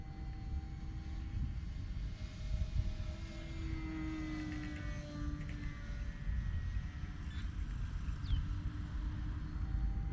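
A Hobby King A1 SkyRaider RC plane at full throttle makes a steady, fairly distant motor drone with a faint whining tone that shifts slightly in pitch over a low rumble, with no voices.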